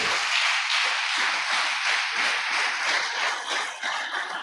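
A church congregation applauds during a Sunday service, with steady, dense clapping from many hands filling the room at a fairly loud level.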